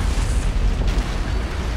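An antimatter charge explodes aboard a ship in the Halo video game, a loud, sustained deep boom with rumbling roar filling the whole moment and no speech.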